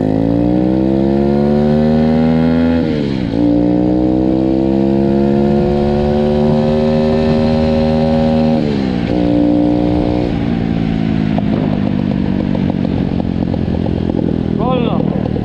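A turbocharged pit bike running about 1 bar of boost revs hard in second gear, its close, loud engine note climbing in pitch in long pulls, with brief dips at the shifts before winding up again.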